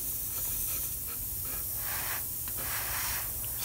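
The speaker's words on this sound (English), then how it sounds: "So I set my airbrush up and I put some just flat black, really, really thin, super thin out" An airbrush mists very thin flat black paint onto a scale race car model, a continuous soft airy hiss up close with faint shifts as the spray passes, with no voices.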